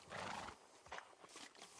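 A horse in the Minecraft video game gives a short snort and whinny up close, followed by fainter shuffling and clip-clop noises, with no talking.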